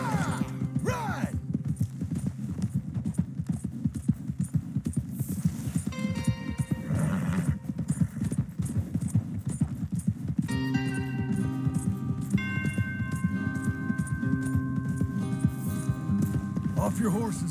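Horses' hooves clip-clop steadily throughout in the video game Red Dead Redemption 2, with an occasional whinny, voices talking over them, and a layer of music.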